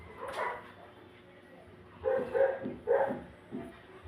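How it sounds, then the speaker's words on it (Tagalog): Several dogs bark in a short burst of sharp yaps and woofs, a few repeated barks close by over a low background hum. "Ang ingay ng mga aso guys, hindi ako makapag-focus."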